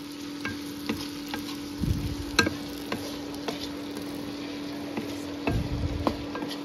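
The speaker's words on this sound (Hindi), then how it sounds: "प्याज को भी हम अच्छे से पहले फ्राई कर लेंगे।" Finely chopped onions fry and sizzle in a pan for a village-style dahi tikhari, with steady crackling broken by occasional scraping stirs and light ticks, close and moderately quiet, no talking.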